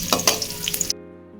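Rice frying with bay leaves in a pan for pulao gives brief, close crackling sizzles with a few stirring scrapes for about a second, then cuts to silence.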